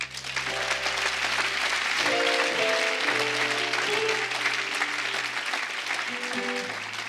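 A church congregation applauding and cheering, a continuous loud wash of clapping and crowd noise with sustained keyboard or organ chords playing underneath throughout.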